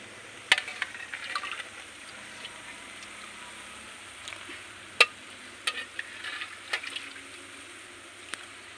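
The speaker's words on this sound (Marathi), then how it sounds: "तर असं तेल मस्त सुटायला लागले. तर ह्याच्यात घेते मी मटण टाकून." Goat mutton frying in hot oil in a pot on a rural wood-fired clay stove gives a faint steady sizzle, broken by sharp clinks and stirring scrapes.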